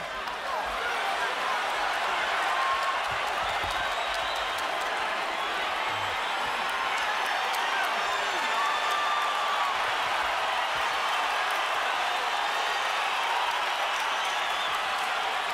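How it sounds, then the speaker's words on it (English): Boxing arena crowd at a Shane Mosley vs Sergio Mora fight roaring in a steady, dense wash of cheering that holds loud and unbroken throughout. "I'm trying to figure out why the crowd is excited."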